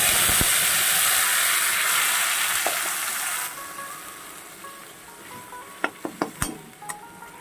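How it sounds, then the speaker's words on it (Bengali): Ground spice paste hits hot oil with a loud, hissing sizzle that gradually dies down, followed by several sharp metallic clinks of a utensil against the pan near the end. "মশলাটা দিয়ে একটু কষিয়ে নিই"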